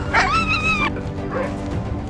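Sled dogs at a kennel in Finnish Lapland give a short burst of high, whining yips and cries, then a fainter whimper follows over steady background noise, with no talking.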